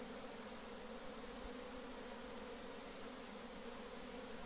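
Honey bees buzz around an opened beehive during a frame inspection in Thola Pampa, Villa Serrano, a steady, even hum from the swarm that stays faint and continuous with no talk.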